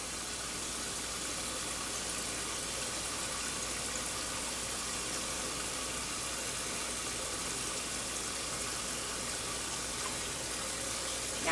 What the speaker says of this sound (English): I'm going to turn on the cold water and fill up a bowl with cold water.